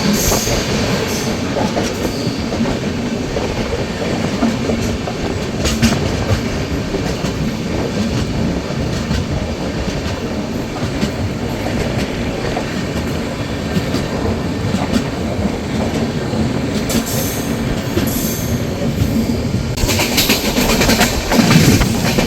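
An express train, the Darjeeling Mail, runs steadily as heard from inside a general class coach, with a constant loud roar, rattling and wheel clatter throughout and a brief rise in noise near the end.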